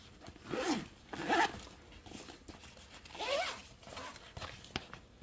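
A zipper is pulled open in several short, raspy bursts with pauses between them, close by and fairly quiet.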